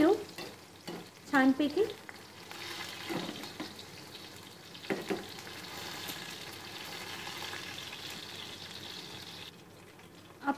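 Green chillies frying in oil on a low flame, a soft sizzle with intermittent stirring scrapes and a brief spoken word near the start.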